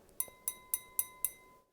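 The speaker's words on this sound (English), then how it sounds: "So here's what glass sounds like." Five evenly spaced taps on a thrift-store drinking glass, each a sharp bright clink with a short ringing tail, close and fairly quiet, then silence; no one speaks.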